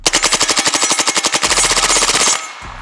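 Springfield Kuna pistol firing rapidly through a full magazine, a loud, close, evenly spaced string of shots lasting over two seconds before stopping abruptly.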